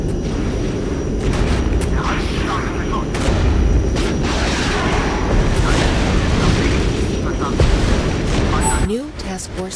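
Artillery strikes pound a point on a Regiments battlefield, with repeated heavy booms and crackling blasts over a constant roar, then a sharp electronic glitch near the end.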